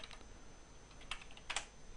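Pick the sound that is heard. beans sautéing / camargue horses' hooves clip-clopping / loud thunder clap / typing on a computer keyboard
typing on a computer keyboard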